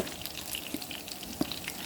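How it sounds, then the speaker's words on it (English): Steady crackling sizzle of seasoned meat pieces frying in hot olive oil in a frying pan, close by, with occasional sharper pops over a continuous hiss. "So I put my first 4 pieces in the frying pan. This is olive oil that I have frying in it."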